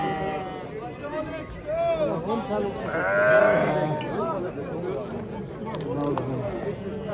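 Sheep at a livestock bazaar let out wavering bleats, one loud nearby call rising above a noisy crowd of buyers and sellers talking.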